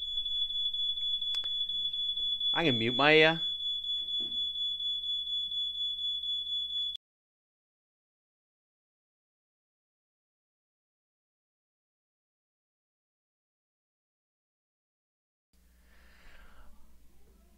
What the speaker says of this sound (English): And now the fire alarm's gone off.